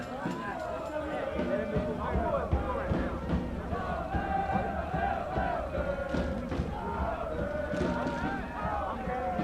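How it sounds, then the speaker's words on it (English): A student section of a soccer crowd at a derby match sings and chants together, a loud, sustained mass of voices with shouts rising over it, filling the whole stretch. "You can hear the student section showing off their singing abilities"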